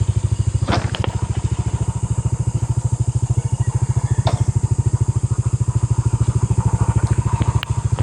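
A motorcycle engine idles steadily up close near Lake Yambo, its rapid even putter continuing throughout, with a couple of faint clicks over the top.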